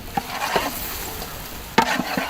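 Chili paste, turmeric paste and mutton curry frying in a village pan, with a busy sizzle under a handful of sharp scraping stirs, including a louder burst of spoon strokes near the end; no talk.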